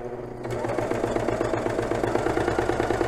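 A Janome serger runs steadily while gathering fabric with an elastic gathering attachment, a close, even mechanical whir with a rapid rhythmic stitching pulse that continues without pause.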